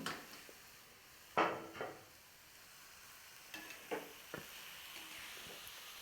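Boiled, squeezed greens tipped into a hot tempering of oil in a pan, giving a sudden loud sizzle that fades back, then a few stirring scrapes and clinks of a spoon against the pan.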